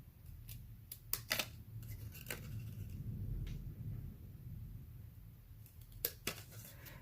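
Scissors cut card paper for a handmade card, giving a few sharp close snips in small clusters over a quiet background hiss.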